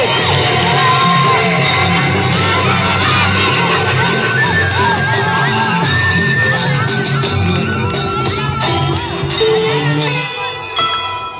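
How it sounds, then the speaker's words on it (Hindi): Crowd at a Ramleela stage performance roars for the children on stage, with loud sustained cheering, whoops and high-pitched shouts over a continuous wash of voices that eases slightly near the end. "तालियां बजती रहनी चाहिए।"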